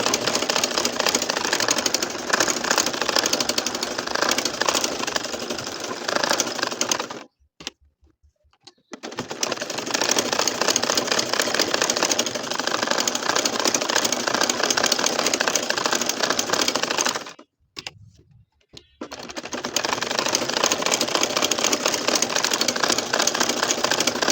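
A sewing machine stitching a nakshi kantha quilt runs in long, loud, rapid mechanical bursts. It stops briefly twice for a few seconds and then starts again, with no voices.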